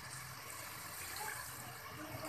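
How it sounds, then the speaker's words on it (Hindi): Water pours steadily into a pot of cooking chicken biryani with a soft, continuous splashing rush, fairly quiet and close, with no talking. "अब हम इसमें थोड़ा पानी डाल देंगे"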